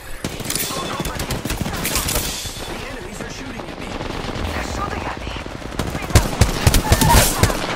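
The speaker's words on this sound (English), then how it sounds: "The enemies are shooting at me." Enemy gunfire in Apex Legends rattles in rapid automatic bursts, loud and near, swelling toward the end with sharper individual shots, while a voice talks underneath.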